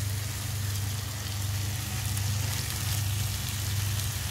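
Baby corn and chicken frying in a pan give a steady, close, loud sizzle that keeps going without a break, with a low hum underneath and no talking.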